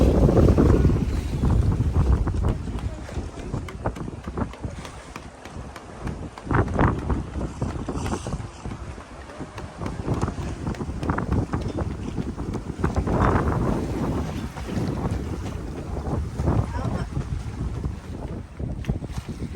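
A heeled-over sailboat runs fast and overpowered in strong wind, with loud wind buffeting the microphone and water rushing steadily along the hull throughout, no voices.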